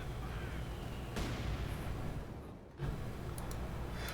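Artillery barrage in Company of Heroes 2, faint rumbling shell impacts and booms rolling over a low battlefield din, with a brief lull before the bombardment resumes.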